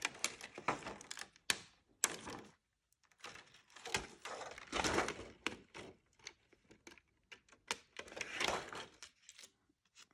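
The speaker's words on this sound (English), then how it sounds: "I'm going to just use these little cuticle scissors" Small cuticle scissors snip a paper stencil in quiet, uneven bursts of crisp clicks and papery cuts separated by short pauses.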